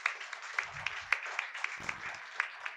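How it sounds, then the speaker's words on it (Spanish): Audience applause at a book fair in Misantla, dense clapping spread across the room, with a couple of low voices speaking briefly beneath it. "Un aplauso para don Manolo Santiago también."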